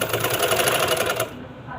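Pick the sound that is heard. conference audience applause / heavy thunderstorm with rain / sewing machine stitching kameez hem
sewing machine stitching kameez hem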